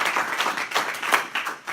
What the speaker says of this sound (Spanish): Dale un aplauso a Cristo para que tú cojas fuego